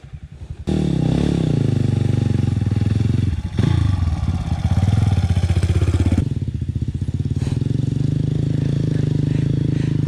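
A motorcycle engine roars loudly under heavy strain climbing uphill, its pitch rising and falling as it labors and revs, with brief dips between bursts.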